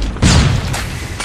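A single loud, booming flashbang grenade blast in Call of Duty Mobile goes off close by and decays into a rumbling, hissing tail.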